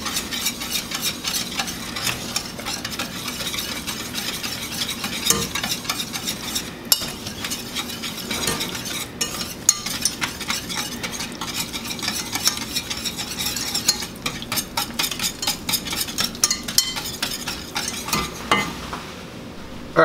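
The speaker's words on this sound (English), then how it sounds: "we're gonna whisk this until it dissolves" Whisking melted butter with packed dark brown sugar in a pan, a steady scraping, rattling whisk with faint sizzling throughout, close and continuous with occasional sharper clinks.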